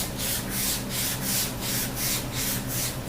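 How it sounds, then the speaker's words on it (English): A surface coated in Rust-Oleum paint is lightly sanded by hand in rhythmic back-and-forth strokes, about eight soft, close rasping passes with no talk. "now it's dry, so we're gonna just give it a light sand."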